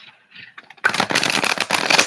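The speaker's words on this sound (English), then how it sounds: "I'm going to shuffle the cards" Tarot cards being shuffled up close: a few soft riffling taps, then a loud, sustained crisp flutter of cards riffling and bridging, with short pauses between bursts.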